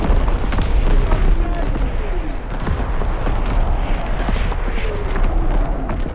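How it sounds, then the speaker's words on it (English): An artillery battery barrage in the video game Call of Duty: WWII, heard as a run of deep booms and rumbling blasts layered over a dense battle din, with radio-style voice lines mixed in. "Firing primary battery."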